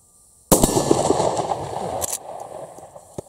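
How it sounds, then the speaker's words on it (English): A single close, loud blast from an Uzkon LA887 lever-action shotgun firing birdshot, followed by a fading rumble, a second sharp crack and a faint later click. "Feels like I'm shooting birdshot."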